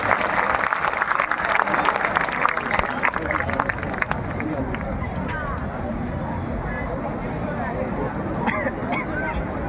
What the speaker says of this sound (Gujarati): જોરદાર તાળીઓથી આપણે વધાવીશું